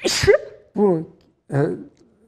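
A single sharp, loud sneeze bursts out up close, followed by brief voiced sounds from people nearby.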